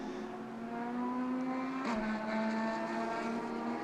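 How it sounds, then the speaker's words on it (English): A Porsche GT race car at Okayama rounds the final turn, its engine a steady rising drone that dips briefly with a gear change before holding a loud, close roar. "Around the final turn comes Liu Wei"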